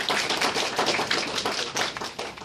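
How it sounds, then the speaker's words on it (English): An audience giving a round of applause, dense and steady hand clapping from a group, close and fairly loud throughout. "I think we should give Ms. Nunes and the admin team and teachers a round of applause"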